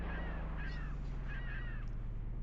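Seabird calls in the PlayStation fishing game Black Bass with Blue Marlin, set on a boat on the open sea: a few harsh, crow-like squawks in quick groups over a steady low engine drone.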